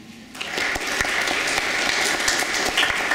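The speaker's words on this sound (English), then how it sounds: "We can give a round of applause to my panel here." An audience at a land grant and acequias legal education session applauding its panel, sustained clapping that starts abruptly and carries on evenly, no voices over it.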